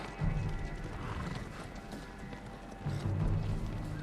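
A horse in the video game Ghost of Tsushima: hooves clop in a running rhythm, with a whinny, over a steady background hum; no one speaks.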